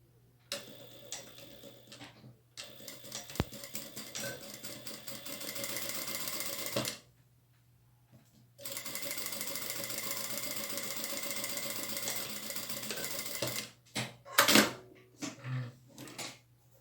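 A sewing machine runs a finishing seam along the edge of a fabric placemat, its steady rapid needle chatter coming in long bursts broken by short pauses, close and clear with no talking.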